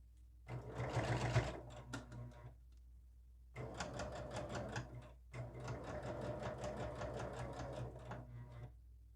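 Domestic sewing machine stitching binding onto a quilt, running in three steady bursts of rapid mechanical chatter separated by brief pauses, with no talking.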